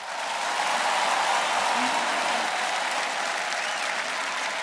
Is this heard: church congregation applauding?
yes